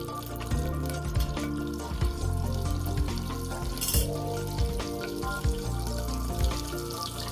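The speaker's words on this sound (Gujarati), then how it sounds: "ઘી ગરમ થાય આપણે એમાં 1 ચમચી જીરું એડ કરીશું।" Steady frying sizzle of cumin seeds in hot ghee with crackling bursts and clinks of a spoon stirring in a pot, continuous and close, no talking.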